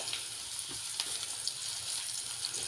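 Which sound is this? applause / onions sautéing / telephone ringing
onions sautéing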